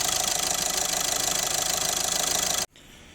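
A Skoda Octavia 1.6 TDI diesel engine, with exhaust gases escaping through the crankcase breather, idles with a loud, close, steady knocking clatter, then cuts off abruptly near the end, leaving quiet background noise.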